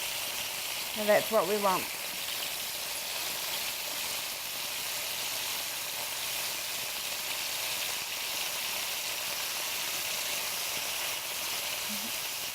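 Beef and bacon slider patties fry in a pan with a soft, steady sizzle that runs throughout, fairly quiet and close, while a person talks briefly near the start.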